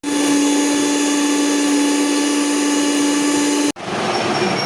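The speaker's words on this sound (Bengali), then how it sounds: "তো চলো আমি পোস্তটা বেটে দিই।" Poppy seeds are ground in an electric mixer grinder, a loud steady motor whine with a constant high hum that cuts out briefly near the end and restarts at a lower pitch.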